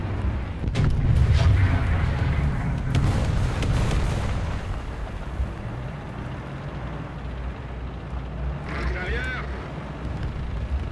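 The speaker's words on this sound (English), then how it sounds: "Oh, it's artillery." Artillery fire in a tank video game, a broad booming blast early on with rumbling battle noise that gradually settles, under the players' voices and game sounds.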